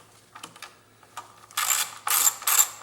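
A ratchet fitted with a 10mm socket loosens coil bolts on a Jeep Grand Cherokee WK V6, first a few faint clicks, then several bursts of rapid, loud ratcheting close by.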